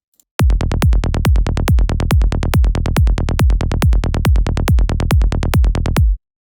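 A dry, punchy psytrance synth bass with effects bypassed pulses in a steady rapid rhythm, loud and continuous for about six seconds before stopping abruptly.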